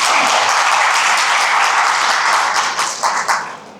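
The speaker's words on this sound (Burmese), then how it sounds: "ကျေးဇူးတင်ပါတယ်လက်ခုပ်တီးပြီးအားပေးပါဦး" An audience at a young business millionaires' motivational talk breaks into loud, dense applause that holds steady, then thins into a few last scattered claps.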